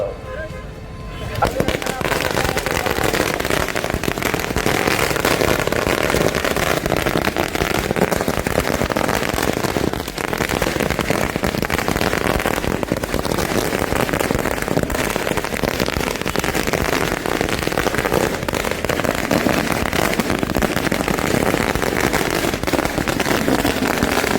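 Firecrackers burst at a street celebration at Yoga Narayana Circle in Chintamani, a dense continuous crackling roar of rapid pops sustained and loud throughout.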